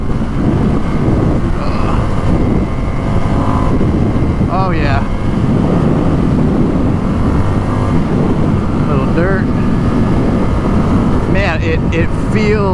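A 2019 Indian FTR 1200 S motorcycle engine drones steadily on a back road with wind rush across the microphone, close and loud, while a rider speaks briefly over it.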